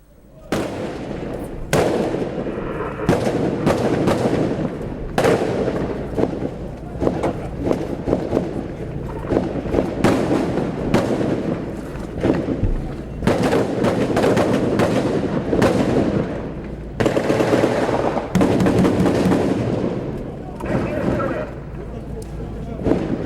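Gunfire from security forces in West Kingston: bursts of sharp cracks and rapid shots echo through the neighborhood, recurring throughout, some in quick clusters, with background commotion and possible voices.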